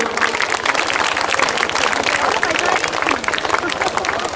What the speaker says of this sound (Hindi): ताली बजा के स्वागत करिए अपने बुजुर्गों का।